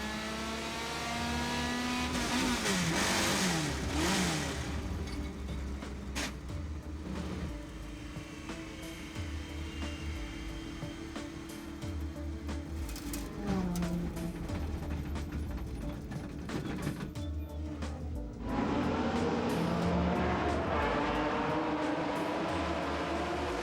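Vintage Group 3 sports racers at Le Mans Classic, among them Lotus, Porsche, Jaguar, Ferrari and an Aston Martin DBR1, roar past one after another, with engines rising and falling in pitch as cars approach and recede amid continuous loud racing noise.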